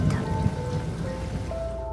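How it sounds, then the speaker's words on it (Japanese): Heavy downpour of rain in a dark narrated horror scene, a constant hiss of falling water with a low rumble beneath and faint tonal lines, fairly loud and steady throughout. "気がつけば土砂降りの雨になっていた。"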